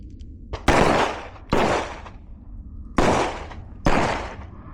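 Four loud, sharp gunshots fired one at a time during firearms training, each a hard crack with a short decaying tail, spaced roughly a second apart with a brief pause after the second shot.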